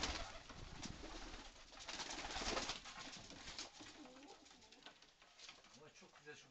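Seljuk breed pigeons cooing softly and repeatedly at close range, mixed with someone talking over them.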